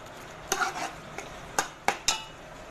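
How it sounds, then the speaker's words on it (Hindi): Mutton for palak gosht being stirred and browned in a pot: four or five sharp scraping clatters of a spoon against metal over a faint background sizzle, spaced irregularly, close and fairly quiet. "अब गोश्त को अच्छी तरह भूनेंगे"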